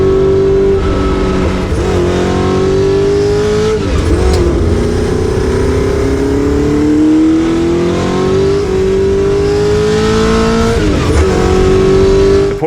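A Porsche 908 Langheck long-tail race car's engine revs loud and close for the whole stretch, its pitch climbing and dropping in repeated swells with no talk over it.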